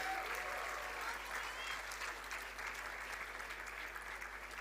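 A convocation audience applauds a third-rank award winner, with steady, dense clapping throughout at a moderate distance and no gaps.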